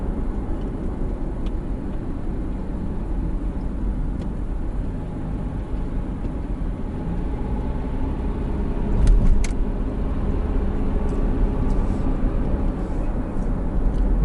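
A car cruises along Highway 401 in Mississauga, Canada, giving a steady, loud road and engine roar with tire rumble and wind, unbroken for the whole stretch, with a small rattle midway.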